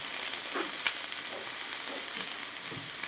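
Steady crackling sizzle of shellfish frying in a pan with green chili sauce, close and continuous, with a few soft stirring scrapes and no talking.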